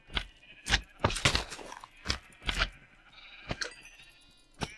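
Sheep bleating in Minecraft, a run of short, sharp in-game bleats and clicks spaced irregularly over a few seconds, close and fairly quiet, with no talking.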